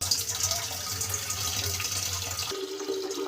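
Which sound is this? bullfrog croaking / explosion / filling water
filling water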